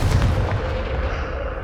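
Blasting spell in Hogwarts Legacy, heard as a dense burst of booming, artillery-like blasts filling the whole moment, loud and close.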